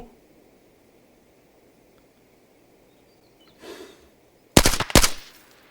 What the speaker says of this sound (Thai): คนน่าจะยิงกันแถวสะพานนี่แหละ